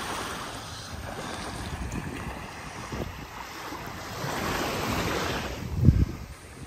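Ocean surf at Jaws Beach in Nassau, the Bahamas, a soft rushing wash of waves that swells toward the end, mixed with wind noise on the microphone.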